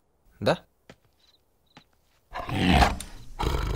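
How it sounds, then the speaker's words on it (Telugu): A tiger roars loudly in a film scene, a deep, sustained rumbling growl that swells after a few quiet footsteps and a short spoken word. "పులి."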